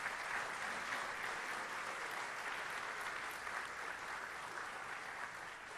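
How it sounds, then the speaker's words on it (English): Distant audience applause at a sheriff's office awards ceremony, a soft, steady stream of clapping from a crowd honoring an individual. "one more big round of applause for Jay Martinez"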